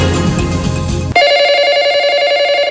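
A landline telephone rings loudly and alone, its bright electronic trill ringing steadily after an abrupt cutover from a busier burst of sound.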